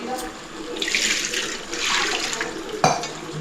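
Water is poured into a pot holding chicken pieces for an Alibaug-style chicken rassa, giving a close splashing, gurgling pour in two surges, ending with a brief clank.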